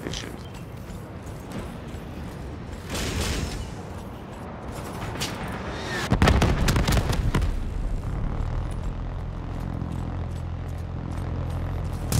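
A Hellstorm missile strike lands in Call of Duty: Black Ops 3 multiplayer, a dense roar of heavy explosions and booming blasts that swells midway into a loud sustained rumble.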